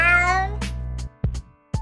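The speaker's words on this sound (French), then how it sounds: "Les chats produisent des courts miaulements espacés de longs silences." A domestic cat gives one drawn-out meow followed by three short, spaced meows, each separated by brief silences, close and clear with no other sounds.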